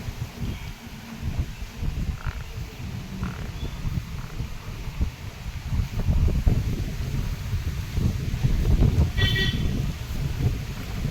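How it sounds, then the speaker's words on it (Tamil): Steady wind noise in a garden with low rumbling gusts and rustling, rising a little toward the end, no voices. "காற்று தோட்டத்தில் அதிகமாக வீசும் காற்று"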